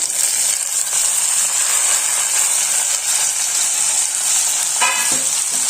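Tomatoes and green chillies fry in oil for a chicken curry, giving a constant bright sizzle with a few scraping stirs of a spoon near the end, close and without voices.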